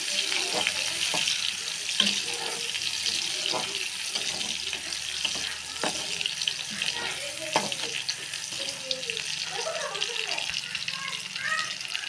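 Oil sizzles steadily in a pan on a gas stove, a constant close crackle with scattered clinks and faint spoken words underneath.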